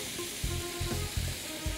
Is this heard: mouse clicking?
no